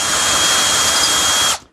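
A power drill bores holes into a wooden drawer front for wire pulls in a workshop, giving a steady, loud, high whine that runs unbroken and then cuts off abruptly.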